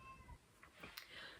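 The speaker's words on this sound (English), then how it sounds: "And I'm really sorry about my cat." A house cat meows several times in short, faint calls, some drawn out like a yowl, against a quiet indoor background.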